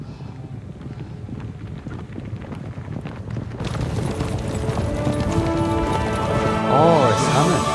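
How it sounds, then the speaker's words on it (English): Rhythmic clip-clop of horse hooves in the video game Kingdom Come: Deliverance 2, against a windy outdoor ambience, with a faint whinny near the end and a person talking over it. "You can hear horses, yeah."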